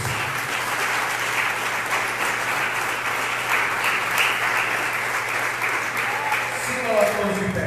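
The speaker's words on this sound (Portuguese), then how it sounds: "As palmas que exaltam Jesus" A church congregation claps continuously at a steady level, sustained applause filling the room with a low hum underneath.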